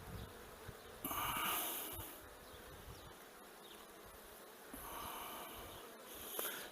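Honey bees buzz around an open beehive frame, some carrying pollen, with a soft continuous hum that swells near and fades, rising louder in two brief bursts.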